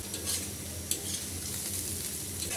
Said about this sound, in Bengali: ভাজিটা প্রায় কমপ্লিট হয়ে আসছে